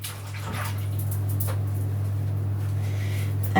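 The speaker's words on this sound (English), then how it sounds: "I'm going to wash my hands again." Hands are rinsed under a running kitchen tap with a steady, close splash of water, broken by a few brief clatters, with no talking.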